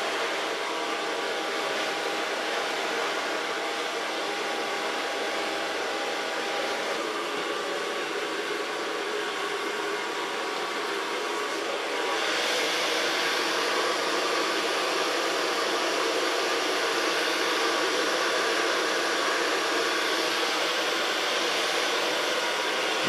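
Hair dryer blowing steadily while a pixie haircut is dried, a loud continuous rushing airflow that holds for over twenty seconds with a slight shift in pitch about halfway, no voices.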